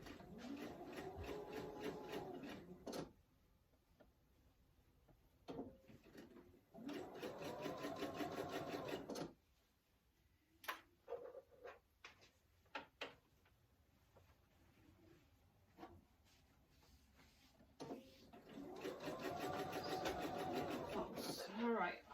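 Sewing machine stitching a fabric tissue box cover in bursts, loud whirring runs of a few seconds separated by pauses with quieter handling noises and brief speech.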